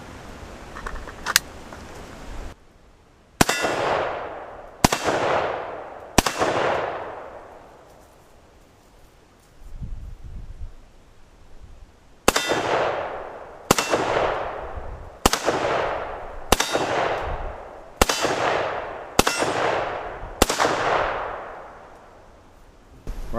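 A rifle fires hollow-point rounds at a half-inch AR500 steel plate on an outdoor range. About ten loud, sharp reports come in two groups, each fading through a long echoing decay.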